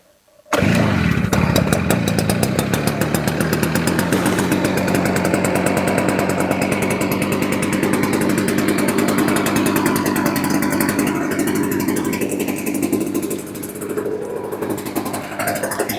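Stihl BR380 backpack blower's two-stroke engine runs at half choke after a carburetor replacement, starting abruptly and then holding a loud, steady, buzzing drone close by, easing slightly near the end.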